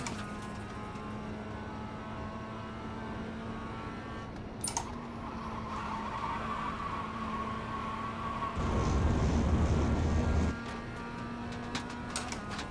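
A race car in a sim racing game holds a steady engine drone throughout, with a short burst of broadband tyre noise in the middle before the engine tone returns.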